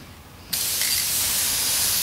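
Filter oil sprayed from an aerosol can onto a KLR 650 motorcycle air filter: a sudden close hiss starts partway in and holds steady, loud and even, to the end.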